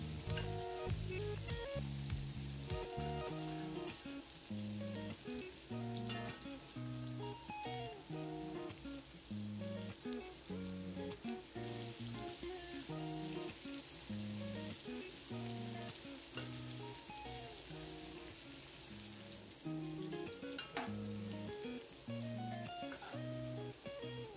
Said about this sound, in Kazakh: Сәбізімізді кемінде 5-6 минут жақсылап майда қуырып аламыз.